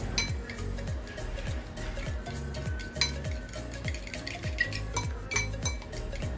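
Egg is beaten with pepper and chili powder in a bowl, a fast steady run of clinking utensil strokes against the bowl, close and without voices.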